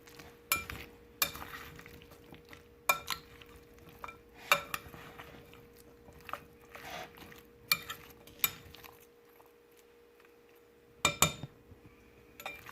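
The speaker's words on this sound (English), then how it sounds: "one big mixing pot, and we will mix it up" Curry chicken pieces being mixed in a large marinade pot, with intermittent scraping, clinking and stirring knocks against the pot at an uneven rhythm, close and moderately loud, with quiet gaps between bursts.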